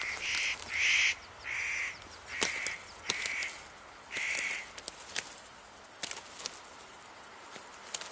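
Nutcrackers give a series of harsh, crow-like calls in a conifer forest, about six loud grating bursts in the first five seconds, followed by quieter clicks and scattered knocks.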